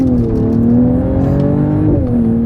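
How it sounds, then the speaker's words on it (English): A 2024 Mercedes-AMG GLE 53 Coupe in sport mode with the exhaust open accelerates hard, its deep engine note rising steadily and then dipping briefly at a shift. It sounds loud and continuous from inside the cabin. "I got the exhaust turned on here, the real exhaust note"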